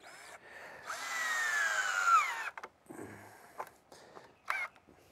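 A power drill whirs for about two seconds, its pitch rising as a screw bites into wood of a shadow box, followed by a few faint clicks and handling noises.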